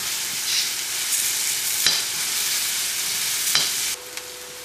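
Sliced onions sautéing in a pan for Kerala-style beef fry, a loud continuous sizzle broken by a few sharp stirring scrapes, with no voices.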